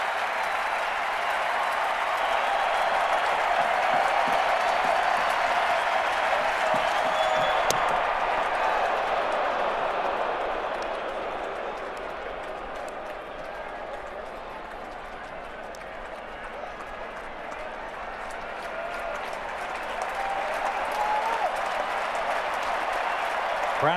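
Baseball crowd at a 2009 Minnesota Twins ALDS playoff game standing and applauding, a broad sustained roar of clapping and cheering that swells, dips briefly, then rises again, with a commentator talking over it.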